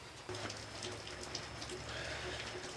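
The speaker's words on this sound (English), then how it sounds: "It's raining hard" Heavy rain pours outdoors, a dense continuous hiss with scattered drop taps and a faint low hum underneath, steady for the whole stretch.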